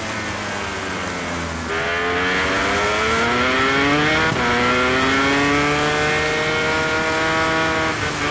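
Onboard engine of a Honda MotoGP motorcycle in the racing game MotoGP 24, screaming loud and close through rising and falling revs as it shifts gears, with layered harmonic whine and no talk.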